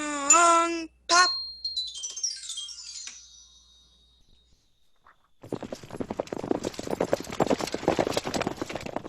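Horse hooves clip-clopping as a radio show sound effect, a dense run of quick hoof knocks entering after a few seconds and continuing steadily to the end, following earlier tonal sounds and a quiet gap.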